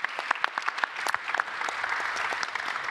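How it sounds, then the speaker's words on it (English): An audience at the ESS/Max IV Summit 2024 breaks into applause, starting as scattered sharp claps and swelling into a steady, dense round of clapping. "Yes, I think it's an applause."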